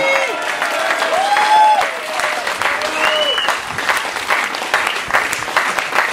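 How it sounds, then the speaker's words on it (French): A crowd at Les Sables d'Olonne loudly applauds a sailor finishing the Golden Globe Race around the world, sustained dense clapping with some cheering and a few whistle-like tones rising over it. "on peut lui dire et l'applaudir à nouveau pour ça, Abhilash Tomy."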